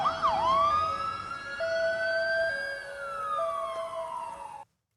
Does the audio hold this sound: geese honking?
no